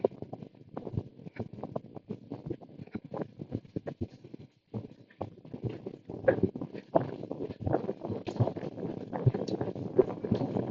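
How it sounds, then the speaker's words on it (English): Hooves of a mare clip-clop in an irregular series of close, fairly faint knocks, with light wind noise and occasional voices talking over them. "Oh, there is a horse in there."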